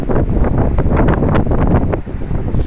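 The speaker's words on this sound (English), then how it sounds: "the wind is blowing" Strong wind gusts roaring and buffeting the microphone during an afternoon storm in Serampore, with trees shaking; loud, continuous broadband rushing that dips briefly near the end.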